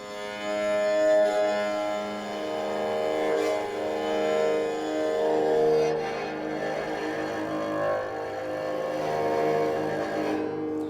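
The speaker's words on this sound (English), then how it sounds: "if we put a bow on it, this is what it's going to sound like" A bass dilruba, bowed, sustains long, low, resonant tones rich in overtones, swelling and fading in slow strokes, close and clear with no talking.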